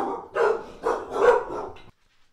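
Several dogs bark in a burst of three or four loud, close barks, then fall silent.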